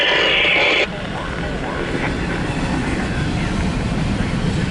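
A CSX Q137 intermodal and autorack freight train rolls past at close range, a loud, steady broadband roar of wheels and cars; a brief brighter hiss at the start gives way to continuous rumbling.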